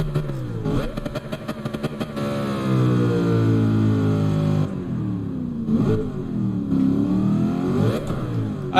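A car engine in Gran Turismo 7 revs and accelerates through several rising sweeps and gear changes, a mid-pitched synthetic drone with clattering bursts, loud and up close with no talk over it.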